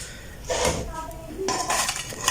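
Crunchy cheese sandwiches are served onto a plate with a few clinks and clatters of utensils and dishware, while a person talks over the brief, close sounds.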